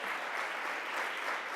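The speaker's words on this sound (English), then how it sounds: "Can we give them a round of applause?" An audience at a New York business breakfast on the 2020 Census applauds, steady dense clapping from a crowd filling the whole moment.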